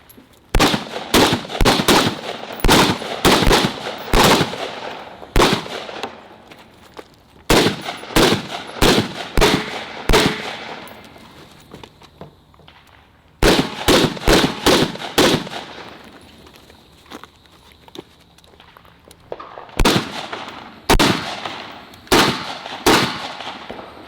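AR-15 rifles fire in rapid strings of sharp, loud shots at an outdoor range, with bursts of several rounds separated by short pauses over about twenty seconds.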